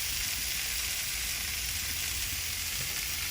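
Onions frying in a pan give off a steady, even sizzle, a constant bright hiss with no pauses.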